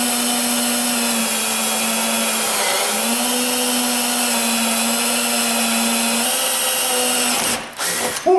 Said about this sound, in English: our drill should go right up through all 3 of these